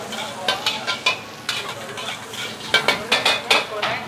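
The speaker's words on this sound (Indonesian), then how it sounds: "Dia habis ini cuci, goreng cuminya, terus goreng dori ya" Squid and dory fish frying in oil in a busy restaurant kitchen, with a continuous sizzle broken by repeated sharp scrapes and clanks of a utensil stirring in the pan.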